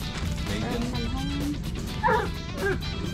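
Loose dogs bark and yip at a motocross campsite, a few sharp barks rising over steady background noise partway through, fairly close by.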